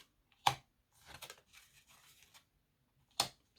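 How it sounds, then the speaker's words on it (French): Tarot cards taken out and handled near the mic: two sharp close snaps of card stock with soft shuffling and sliding rustles between them, no voices. "je sors les cartes"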